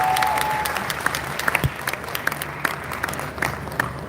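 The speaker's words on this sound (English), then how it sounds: "Maybe let's give them a round of applause like we mean it." Louder, fuller applause from a conference audience in Ghana, a sustained roar of clapping with sharp individual claps near the mic and faint cheering underneath.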